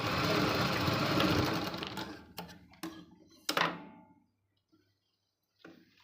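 A sewing machine stitches a tuck on a blouse, with a fast, dense run of needle strokes that stops after about two seconds. A few sharp clunks of the machine being handled follow, then near silence.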